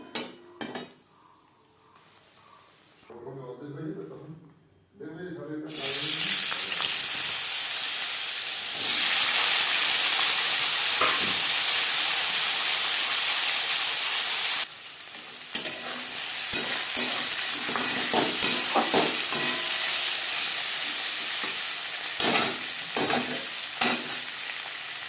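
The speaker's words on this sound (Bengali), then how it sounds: "পাঁপড়ও ভেজে নেব।" Papad frying in hot oil, a loud, steady, hissing sizzle that runs almost the whole time, broken by a short quiet gap near the start and scattered clinks of stirring. No one speaks.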